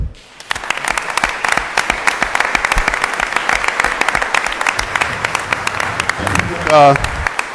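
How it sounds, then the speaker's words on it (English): Applause and scattered cheering from the audience at a Chicago Park District board meeting for a championship team and its coaches, dense and continuous, with voices near the end as the clapping thins. "Let's give them a round of applause"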